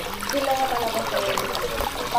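Clear mountain spring water running in an upland stream, a steady trickling babble with light splatter, close and moderate in level, no talk over it.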